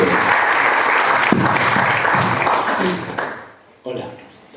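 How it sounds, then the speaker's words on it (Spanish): An audience at a university talk on podcasting in university radio applauds a speaker as he comes up, steady dense clapping for about three seconds that then fades and trails off near the end. "Les pido que aplaudan al orador en el arranque de esta."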